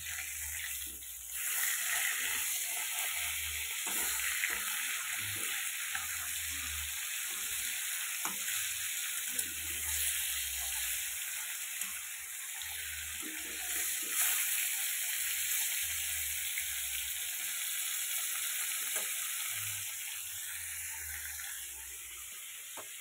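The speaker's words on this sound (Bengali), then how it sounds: "মাছ ভাজা বসিয়ে দিয়েছি" Fish fries in a pan with a soft, steady sizzle and crackle, fairly quiet and continuous. A faint high whine and occasional low thumps sit in the background.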